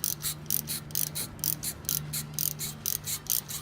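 Bolts threaded back into a BMW E34 brake caliper during a pad replacement, a rapid regular ratcheting click repeating steadily over a low mechanical hum, close and fairly loud with no talk.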